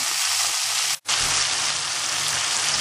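Potato slices with asafoetida and sesame seeds hitting hot oil, a loud steady hiss and sizzle of frying, briefly cut by a short break before continuing.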